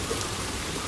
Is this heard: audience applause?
no